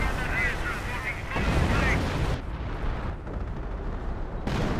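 An artillery barrage in a World War II strategy game booms with heavy blasts and rumbling impacts, swelling and fading in waves, while gunfire crackles in the background.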